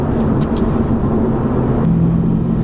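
An LS3 V8 car with its exhaust valves closed rumbles at a steady, muffled idle-like drone, quiet and even throughout with no talking.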